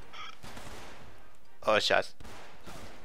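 Friendly gunfire in the Resistance and Liberation war game: a sharp burst of shots stands out near the middle over steady background din, and a man swears briefly just before it.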